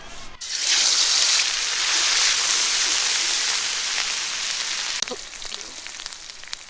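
A spice paste of ground onion, garlic, ginger, cumin and garam masala hits hot oil with a loud, steady sizzle that stays strong and close, then settles slightly with faint clinks near the end.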